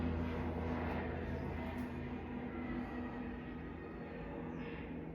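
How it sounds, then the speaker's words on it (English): Airplane engine roar from aircraft flying overhead near an airport, a steady, fairly loud broadband drone that holds for several seconds with no talk over it. "Excuse the planes."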